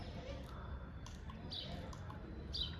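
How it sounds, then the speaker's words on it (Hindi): Birds chirp outdoors in pleasant, rainy-season weather. The short, faint tweets come a few at a time over a constant low background noise. "पक्षियों की चहचहाने की आवाज़ भी आ रही है"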